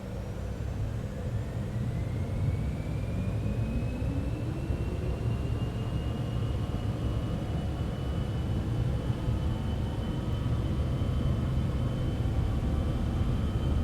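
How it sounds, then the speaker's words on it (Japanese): Jet engine roar of a Cessna Citation X spooling up for takeoff in Microsoft Flight Simulator, a steady loud broadband rumble with a rising whine throughout, no voices. "スロットル横にあるトガスイッチを押して離陸します。"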